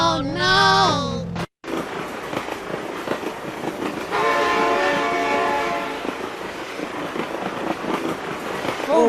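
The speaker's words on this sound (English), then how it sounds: "Oh my god! Train!" A train in the BeamNG.drive driving game sounds a loud sustained horn, then rumbles past with rhythmic clickety-clack, while excited voices talk over it.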